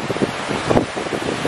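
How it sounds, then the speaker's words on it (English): Strong wind gusts across the Lake Superior shoreline at a campsite, a close, steady rushing roar with fluttering buffets against the microphone and no voices. "You can see it's still pretty windy."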